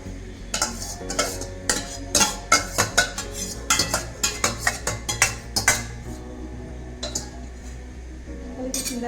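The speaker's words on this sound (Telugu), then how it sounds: "క్యారెట్, క్యాప్సికము, బీన్స్ ఇందులో కలిపిస్తున్నానండి" Boiled carrot, capsicum and beans stirred into a metal pot, a spoon clanking and scraping against the sides in quick repeated strikes, close and clear with a low steady background hum and no talk.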